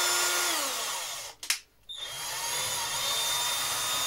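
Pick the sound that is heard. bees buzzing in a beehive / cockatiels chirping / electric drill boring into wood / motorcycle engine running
electric drill boring into wood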